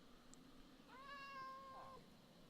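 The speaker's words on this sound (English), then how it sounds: "I hear a cat meowing." A cat in the Minecraft video game gives one drawn-out, rising-and-falling meow, clear and close over a faint steady background hum.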